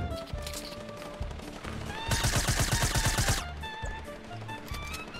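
Rapid bursts of gunfire in the Fortnite video game, a dense loud volley in the middle with scattered shots and game sounds before and after.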